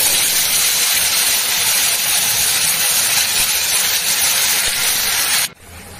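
Leafy greens hitting hot mustard oil with chili in a vegetarian home kitchen, a loud continuous hissing sizzle up close that cuts off abruptly near the end.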